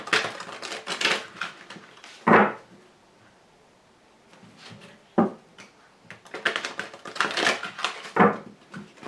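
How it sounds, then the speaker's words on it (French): Oracle cards of the Archangel Gabriel are shuffled and drawn by hand, a close, papery riffling and rustling in several bursts broken by sharp card taps and slaps, with no speech. "vous pouvez vous tirer une carte de l'oracle de l'archange Gabriel"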